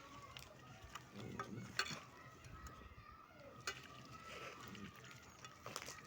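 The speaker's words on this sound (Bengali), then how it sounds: "তো ভালোভাবে মাখিয়ে জেঁকে নিতেছি।" Duck meat being worked together with oil and a packet of Radhuni ground spice mix, giving soft, faint, intermittent squelching and rubbing with a few light knocks and no talk.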